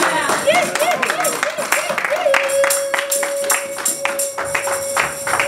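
Congregation at a French-language church sermon on predestination clapping and acclaiming Jesus Christ, a dense run of handclaps and crowd voices that holds steady throughout, with a sustained tone running across the second half.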